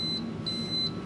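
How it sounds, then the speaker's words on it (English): A Vevor auto hat press gives three short, clear electronic beeps as its heat plate lowers, spaced evenly over a second above a quiet low hum. "It beeps 3 times and then it goes down"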